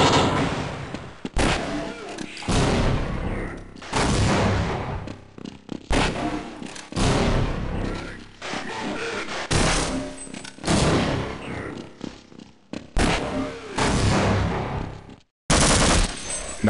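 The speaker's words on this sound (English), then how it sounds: "I'm lobbing grenades like y'all." Grenade blasts and gunfire in Half-Life, a series of loud booming explosions and rattling bursts of shots coming in repeated heavy waves, with brief gaps of quiet between them.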